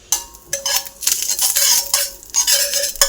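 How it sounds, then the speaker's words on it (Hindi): Spices for chutney tempering sizzle in a hot pan while a metal spoon scrapes and stirs in quick bursts, close up with no talking. "देखिए मैं लगा रही हूँ तड़का यहाँ पे, इस पे तवे के ऊपर।"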